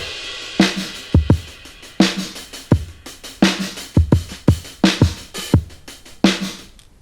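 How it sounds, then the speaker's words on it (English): Programmed kit drums from Addictive Drums software: thumping kicks and a snare drenched in reverb with long pre-delay, steady groove with hi-hats, played alone and fairly loud. "addictive drum sounds like this"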